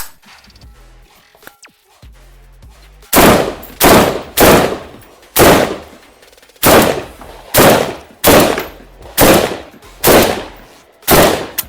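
Shots from a tuned AK-pattern rifle, a WBP Midi Jack in .223 Rem, ring out as about ten loud, evenly spaced single reports after a brief quiet start, with no talking.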